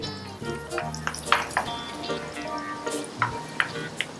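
Garlic frying in a pan crackles and sizzles steadily at moderate loudness, with sharp pops scattered through it and a faint tonal hum underneath.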